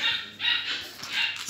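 Welsh Corgi Cardigan puppy giving three short, high yipping barks in quick succession, close and fairly clear, with no voices.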